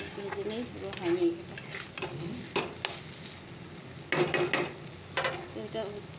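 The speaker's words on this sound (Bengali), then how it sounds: "চলো ভাজাটা একটু নাড়া দিয়ে আসি।" A home vegetable fry being stirred in a pan: repeated scraping strokes of a spatula over a steady sizzle, bursts of stirring separated by short pauses, close and moderately loud.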